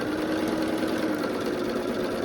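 A sewing machine stitches quilt triangle pieces together, giving a steady, continuous mechanical whir with a fast even rhythm, close and fairly loud with no talk.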